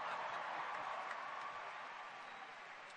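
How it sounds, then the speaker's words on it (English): Audience applause after a line in a university commencement address in Virginia: a dense, steady wash of many hands clapping that holds throughout and eases slightly toward the end. "It always gets a lot of applause."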